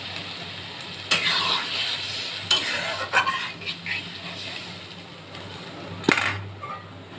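Water poured into a hot pan of sizzling Rai fish curry, followed by spoon stirring and clinks against the pan, close and moderately loud, with a few sharp scrapes between steady sizzle.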